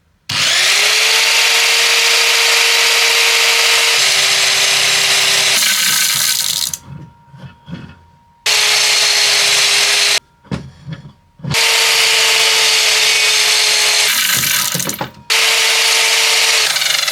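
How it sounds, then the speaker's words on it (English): A power crosscut saw whines loudly through wood, with several distinct cuts separated by short pauses and quieter handling noise between them. "I had to use the saw on 4 different angles to make the bottom level."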